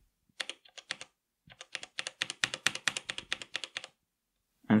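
Close, crisp keystrokes on a Logitech G513 mechanical keyboard fitted with Glorious Aura keycaps and thick O-ring dampeners, a short burst, a pause, then a quicker run of clacks before a final thud.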